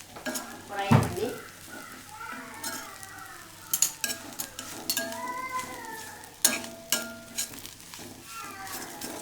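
Ivy gourd (kovakkai) frying in a pan gives a soft sizzle, broken by a loud spoon-on-pan clatter early on and intermittent stirring scrapes and clinks, close up.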